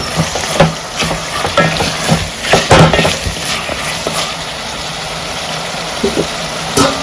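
Raw prawns simmering in an okra stew in a pot on the stove give off a steady bubbling sizzle, with occasional scrapes and knocks of stirring, close and fairly loud.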